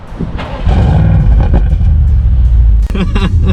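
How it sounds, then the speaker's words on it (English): An Audi RS6 Avant engine fires up and settles into a deep, loud, steady rumble, with a brief burst of voices near the end. "we can hear rumbling inside the house when you start the car"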